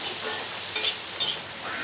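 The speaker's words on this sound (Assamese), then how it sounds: "এতিয়া মই ধুনীয়াকৈ লৰাই দিছোঁ" Amita (papaya) flowers being stirred in a pan, with a soft continuous scraping and light sizzle and two brief louder scrapes of the spoon against the pan.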